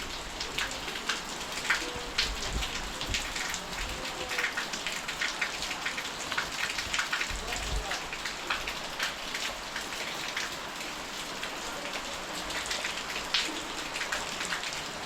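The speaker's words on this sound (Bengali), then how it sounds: "মেঘ বৃষ্টি হচ্ছে" Steady monsoon rain falling on surfaces, a dense continuous patter with scattered louder drops, close and unbroken, no voices.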